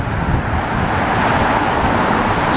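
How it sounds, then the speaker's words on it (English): Steady traffic rolls along the promenade in Blackpool on a cold, quiet day, a continuous broadband road roar with cars passing close by and no talking. "A bit of traffic on the prom,"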